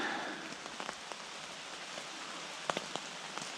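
Rain patters on a tent at a lakeside campsite, a soft steady hiss with scattered louder drops tapping close by, fairly quiet and without voices.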